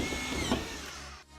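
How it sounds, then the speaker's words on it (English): A driver sinks a screw through Trim-Tex Buttboard into drywall, giving a brief, steady motor whine that holds for just over a second and then cuts out. "Every 8 to 10 inches, I'm going to put a screw in and lock this Buttboard to this piece of drywall first."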